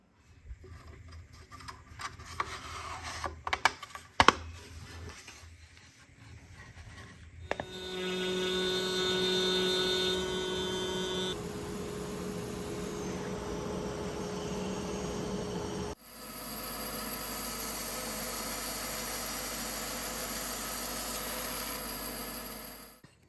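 A drill bores through holes and then taps threads into the body of a wooden lock for a Shaker lap desk with a secret key compartment. A steady whining drill run gives way to a dense, even grinding hiss, with clicks and knocks at the start.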